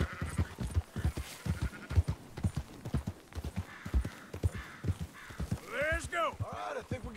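Sheep bleating in Red Dead Redemption 2, mixed with steady clip-clop of horse hooves as a flock is herded, with wavering bleats standing out near the end and a voice talking over it.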